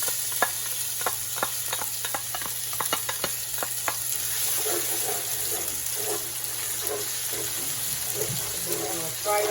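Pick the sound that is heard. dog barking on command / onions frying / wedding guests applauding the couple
onions frying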